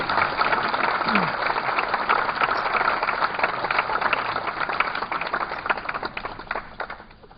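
Audience clapping loudly and steadily for several seconds to welcome a poet on stage at a poetry gathering, a dense continuous crowd applause that tapers slightly toward the end.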